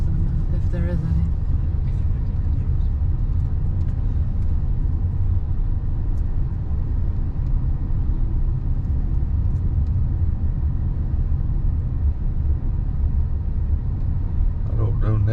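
A car cruising slowly through Cades Cove near Gatlinburg, Tennessee, with a continuous low road rumble and engine drone from inside the cabin, steady and unbroken for the whole stretch.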